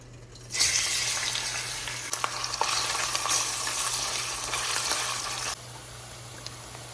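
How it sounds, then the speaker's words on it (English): Onions frying in a pan on medium-high heat for an eggplant and potato curry, a steady, close sizzle that swells in and holds before dropping to a quieter hiss, with a few faint clicks and no talking. "So while the onions are still cooking, we're waiting for them to brown"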